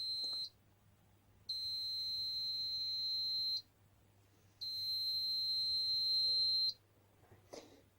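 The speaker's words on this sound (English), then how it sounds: "You hear that little beep, that's just to warn you that the roller's finished its cycle" Two long, loud electronic beeps from a felt-making roller machine signaling the end of its cycle, with a short pause between them, then a faint clatter; the room is otherwise quiet.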